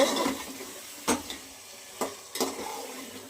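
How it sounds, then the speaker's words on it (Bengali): Pangas fish sizzling and frying in a hot pan, with a steady sizzle broken by a few sharp scrapes and clatters of a spoon stirring the pieces. "এবার আমি পাঙাশ মাছগুলো ঢেলে দিচ্ছি দেখুন এবার একটু ভালো করে কষিয়ে নেব"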